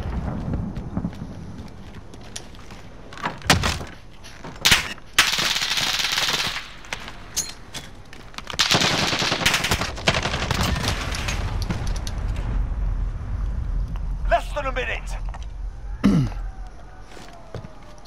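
Gunfire in Call of Duty: Modern Warfare comes in scattered sharp bursts and single loud shots among rumbling battle noise, with quieter gaps between volleys.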